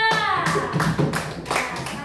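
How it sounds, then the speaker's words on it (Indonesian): Classroom applause for a student group after their presentation, a short burst of clapping hands with a few louder taps standing out, close and fairly loud. "Tepuk tangan untuk kelompok 2"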